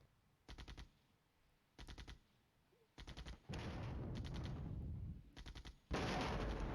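An F-117 drops a laser-guided bomb on an enemy HQ in the wargame Flashpoint Campaigns: Red Storm. Short, rapid, crackling bursts of fire repeat at intervals, broken by two longer, louder booming blasts. No voices are heard.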